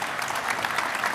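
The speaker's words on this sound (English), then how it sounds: "A warm round of applause representing France." A brief burst of dense audience clapping, steady and moderately loud, with no voices standing out.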